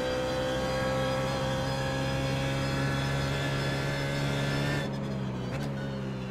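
Sustained engine drone from a BMW Z4 GT3 race car in the iRacing simulator at Zandvoort, steady and loud with harmonic whine, tires being roasted, dropping in pitch near the end.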